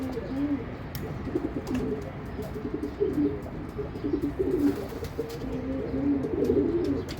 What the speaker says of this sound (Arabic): فرد حمام حلو